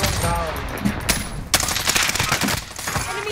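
Rapid automatic gunfire bursts in a multiplayer shooter match, sharp repeated cracks stacking into dense volleys, loud and close, with brief gaps between strings of shots.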